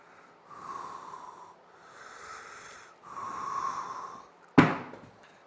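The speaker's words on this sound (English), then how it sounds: "I'm really focusing on passive breathing right now." Passive breathing during a training session, three slow, airy breaths heard close up, followed by a sharp short snort-like exhale.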